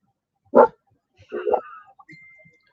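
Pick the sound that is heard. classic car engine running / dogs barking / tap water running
dogs barking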